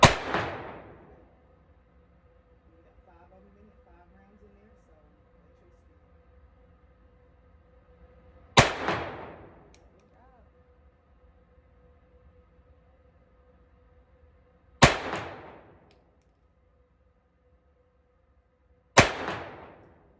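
At an outdoor shooting range, a 9mm pistol fires four sharp, loud single shots several seconds apart, each ending in a short echoing decay over near silence.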